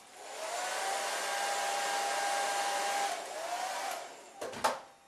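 A steady whoosh of hot air from a heat gun or dryer plays over an airbrushed red feather illustration for about four seconds, then cuts off with a brief knock of handling noise.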